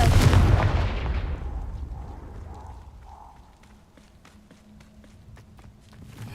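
A Confringo fire spell cast in Hogwarts Legacy on PC bursts loudly at the start as a heavy blast, then fades into a long rumbling tail, with light footstep-like taps following.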